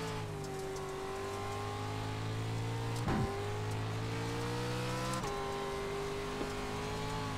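Pro 2 Lite race truck engine in iRacing, revving hard: a loud, steady rising drone broken by two quick gear shifts, each a sharp drop in pitch followed by a fresh climb, with no talking.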